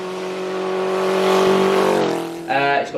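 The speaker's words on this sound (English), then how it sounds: "it actually runs and sounds awesome" A custom Honda CB550 Four motorcycle with a stainless exhaust and small baffles idles with a steady, humming four-cylinder drone, then blips the throttle into a brief, louder rev near the end.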